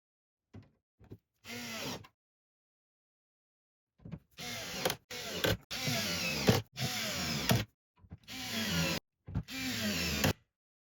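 A power driver drives screws into an EcoFlow distribution panel inside a van's Skyliner cabinet, whirring in short close bursts at first, then in a series of longer runs separated by brief pauses.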